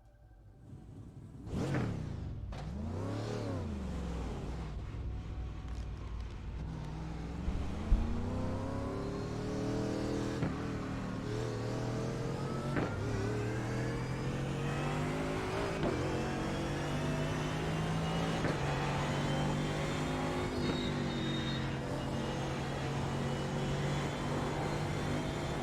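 A race car engine in a racing video game revs up through the gears on practice laps. Pitch climbs repeatedly with each shift, then holds in a sustained, fairly loud drone, with no talking.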